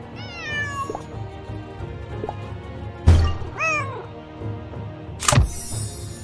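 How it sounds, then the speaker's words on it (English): A cat in a Nancy Drew video game meows several times, rising and falling cries heard close over a low ambient hum, broken by a couple of sharp thumps. "There's that cat again."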